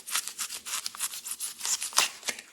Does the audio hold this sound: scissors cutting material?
yes